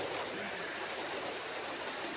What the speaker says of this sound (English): is it pouring